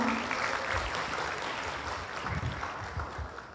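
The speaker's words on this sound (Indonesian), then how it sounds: "Tepuk tangan buat kita semua" Applause from a business gathering celebrating a fashion company's success, a steady broadband patter of clapping that holds at moderate level throughout with no speech over it.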